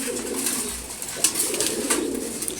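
A pair of pigeons, a red chulli male and a female of uncommon colour, coos close by in a low, wavering drone, with a few sharp taps and rustles from the loft at morning feeding.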